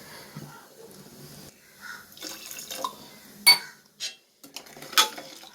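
Jaggery syrup heating in a pan while being stirred, with scattered clinks and scrapes of a spoon against the metal and soft bubbling, close and moderately loud.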